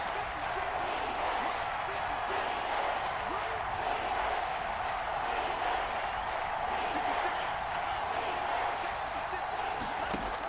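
Stadium crowd noise from the Madden NFL 22 video game, a Kansas City home crowd roaring loudly and steadily throughout a 3rd-and-goal play, a dense continuous wall of sound with no pauses.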